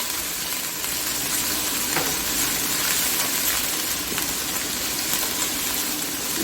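Beef liver fries on high heat in a pan, giving off a continuous, loud, even sizzle with a watery hiss and no voices.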